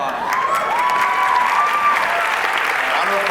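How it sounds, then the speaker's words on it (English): Audience applause and light cheering at a convention panel in a large hall, a steady wash of clapping mixed with a faint sustained musical tone. "Round of applause for Rachael and D. Bradley Baker, the voice of Klaus."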